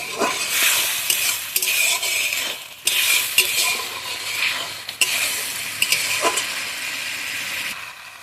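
Spice masala for a river fish and potato curry fries in a pan with a splash of water, giving a steady, close sizzle broken by scraping stirs and a few sharper knocks of the spoon against the pan.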